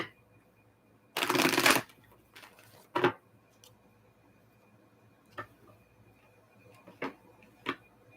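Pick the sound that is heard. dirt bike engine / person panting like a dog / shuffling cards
shuffling cards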